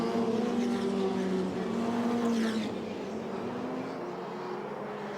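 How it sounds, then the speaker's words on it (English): Ferrari Challenge race cars on Pirelli tyres weaving through a formation lap at Valencia, a steady engine drone from several cars nearby that fades slightly toward the end, with no talking. "And then into shot come the cars, weaving from side to side to try and generate some temperature into those Pirelli tyres"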